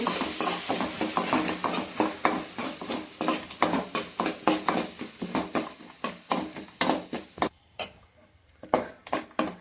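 Chitranna masala fries in oil in a pan as a spoon stirs and scrapes it in quick, rhythmic strokes, close and clear over a soft sizzle, with brief pauses near the end and no speech.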